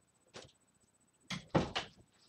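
A door swings shut in a room, one soft knock followed by a few louder bumps and thuds close by, with no talking.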